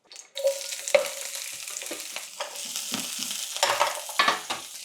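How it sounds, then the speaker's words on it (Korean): Green onions fry in olive oil in a pan, sizzling steadily while being stirred, with scraping and clattering from the utensil. "대파 먼저 볶아줄 거예요. 대파는 올리브유 2큰술."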